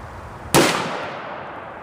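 Single sharp, loud report from a Remington .223 45-grain hollow point fired through a 7.5-inch barrel into gel, a sudden crack that decays into a lingering outdoor echo.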